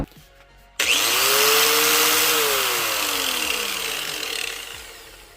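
A Drill Master 4.5-inch angle grinder fitted with a Harbor Freight disc clicks on and spins up with a rising whine. It settles into a loud, steady, rough hiss that fades slightly as the grinder winds down near the end.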